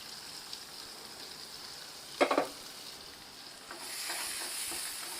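Curry leaves and chopped onion dropped into hot oil, with a short loud stirring clatter followed by a soft, steady sizzle of frying that builds toward the end.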